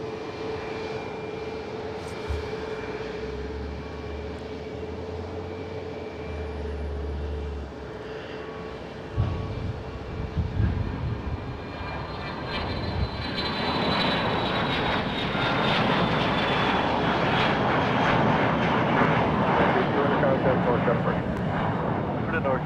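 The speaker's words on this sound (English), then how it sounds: "the Delta A330 is now getting ready to line up and wait for takeoff here" Delta Airbus A330 airliner engines at San Jose Airport before takeoff, a steady broad roar that swells louder and denser after midway, with a brief low rumble early on and voices speaking over the engine noise.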